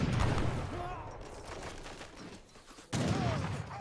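Musket volleys and battle clatter from a competitive Age of Empires III match, with a dense burst of crackling gunfire that fades and then returns suddenly, loud and continuous, mixed with game effects.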